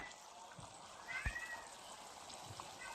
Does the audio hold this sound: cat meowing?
yes